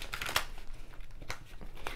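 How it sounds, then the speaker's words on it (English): Crisp papery riffling and slaps of tarot cards being shuffled, a few quick bursts with short pauses between, close and moderately loud. "Let's pull from the Mermaid deck to do some shuffling."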